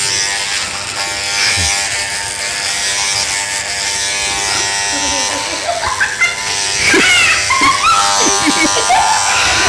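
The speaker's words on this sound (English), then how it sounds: "we'll just fit a number 4 to the Wahl clipper and clipper off around the short bits around the side" A Wahl hair clipper fitted with a number 4 guide cuts around the sides of a boy's head, giving a close, steady electric buzz with people talking over it.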